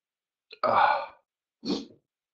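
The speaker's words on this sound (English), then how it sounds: "oh, I'm going to sneeze" One close sneeze: a short sharp intake, then a forceful burst, followed by a brief softer exhale after a pause.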